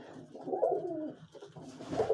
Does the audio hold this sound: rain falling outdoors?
no